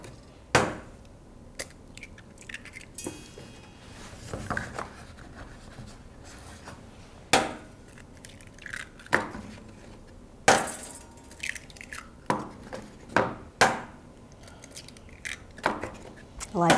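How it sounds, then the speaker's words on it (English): Large grade A eggs cracked one after another into a bowl, sharp irregular taps and cracks spread across the stretch, with soft kitchen handling noise between them. "I like how you're cracking those eggs."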